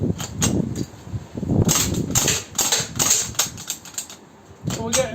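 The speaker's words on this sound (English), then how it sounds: "I'm just shooting at a coffee jar" Umarex M1A1 Thompson airsoft gun, faulty and only partly working, firing at a coffee jar: sharp clicking shots come in short irregular bursts and single pops, close and loud, with a voice talking over parts of it.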